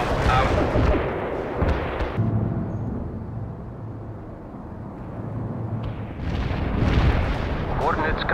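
Anti-tank strike explosions in the World in Conflict video game roll in as deep, heavy booms and rumbling blasts, loud and close, swelling at the start and again near the end.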